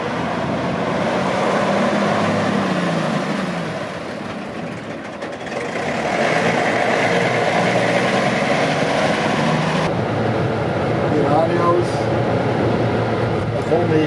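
An old two-tone bus with a 100-horsepower Henschel six-cylinder engine runs with a steady, loud mechanical drone and a brief dip in level partway through, while voices talk over it.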